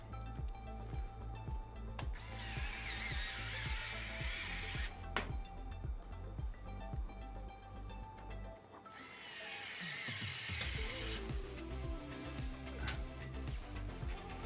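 A Wow Stick electric screwdriver driving screws into a Fractal North XL PC case during a build, two long whirring bursts of steady high buzzing with short pauses and clicks between them, close and fairly quiet, no talking.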